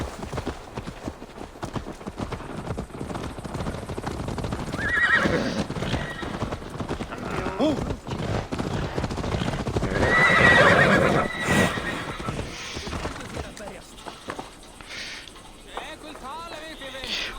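A horse in the video game Assassin's Creed Valhalla whinnies loudly partway through, with a steady clip-clop of hooves underneath. Someone talks over parts of it.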